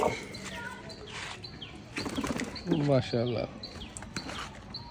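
Pigeons on a pigeon farm, with bursts of wing flapping and low cooing close by, mixed with people talking in the background.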